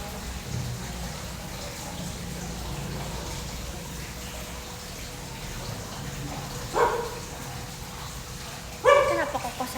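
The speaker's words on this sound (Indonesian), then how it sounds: "Fugo, tapi telat gonggongnya Fugo. Suaranya tadi" A dog barks twice in a home during a live stream, two short separate barks late in the clip over a steady hiss of background noise.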